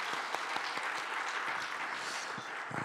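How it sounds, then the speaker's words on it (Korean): A church congregation claps in encouragement for the children's ministry teachers at a Saturday dawn prayer service, a sustained, fairly distant wash of applause with a few sharper claps poking through. "선생님들에게 다시 한번 큰 격려의 박수 하겠습니다."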